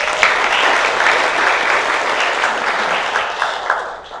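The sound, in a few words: audience applause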